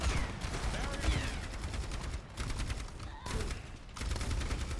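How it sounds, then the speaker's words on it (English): Rapid gunfire in the team shooter Overwatch during a college esports match, dense crackling volleys running almost continuously with brief gaps, layered with other game effects and a caster's voice. "Jair is actually going to stay there and fire some shots towards the Orisa."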